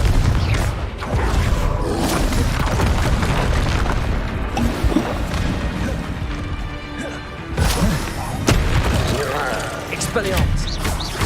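Repeated Confringo spell explosions in Hogwarts Legacy, a magic combat game, boom and crash amid dense combat noise with thuds and impacts, while a voice keeps talking over the action.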